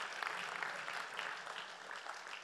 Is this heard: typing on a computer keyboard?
no